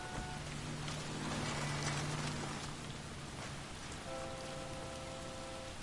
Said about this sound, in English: First time it's rained.